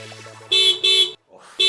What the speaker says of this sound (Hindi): ये मेरे बेटे की गाड़ी का हॉर्न है।